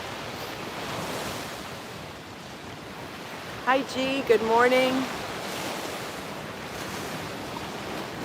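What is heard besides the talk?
ocean waves on the shore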